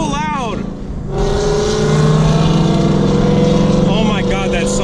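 A loud race car on slicks with a new race clutch launches hard, its engine note climbing in a rising, harmonic-rich roar that dominates, with brief voices over it.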